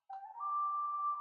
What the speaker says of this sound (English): Pan flute or something.